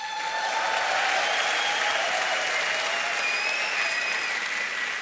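A large esports tournament crowd at a League finals cheers and applauds, continuous loud clapping with whistles and shouts layered over it throughout.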